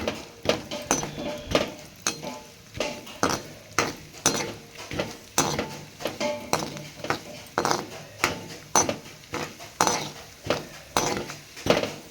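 Melon, cashew, watermelon and pumpkin seeds fry in oil for malida, with a spoon scraping and clinking against the pan in a steady, repeated rhythm over a soft sizzle.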